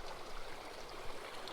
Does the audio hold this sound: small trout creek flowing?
yes